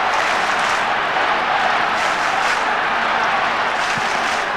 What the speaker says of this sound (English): The crowd getting involved because the margin now only 10 points.